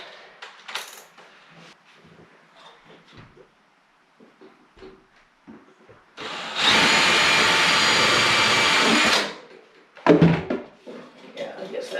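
A power drill runs in a sustained loud whir for about three seconds while driving screws into a hardwood floor, with scattered tapping and handling clatter before and after.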